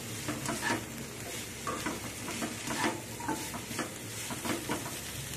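Turmeric, chili and cumin powders are stirred in a hot cooking pan, giving a soft continuous sizzle broken by repeated scraping strokes of the spoon, close and fairly quiet.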